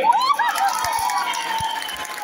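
An audience at an evening celebration of Swargadeo Sarbananda Singha Day claps and cheers in a steady, dense wash of noise, with shouts and raised voices mixed through it.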